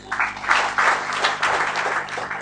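Audience applause breaks out at a BJP national IT convention on e-governance in India, a steady mass of clapping from a hall crowd that swells and holds for a couple of seconds with no talk over it.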